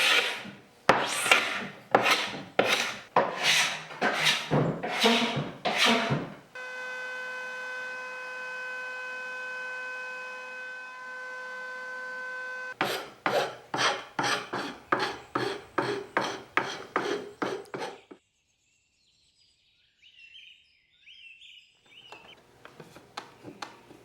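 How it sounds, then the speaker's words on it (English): A carbide scraper pulling chemical stripper off an old wooden desk, bursts of rhythmic rasping strokes up close, broken by a long steady hum and a quiet stretch before a few faint strokes return. "scrape in the direction of the wood grain to prevent damaging the wood with the carbide scraper."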